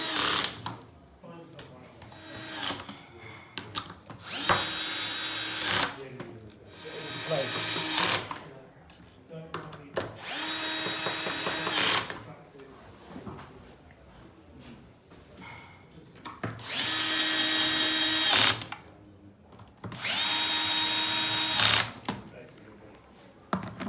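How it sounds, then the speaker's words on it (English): Cordless power drill driving screws into an Arundel wooden bench, in several loud bursts of a few seconds each separated by quieter gaps with handling noise. "Finally, we're going to put all the screws into place."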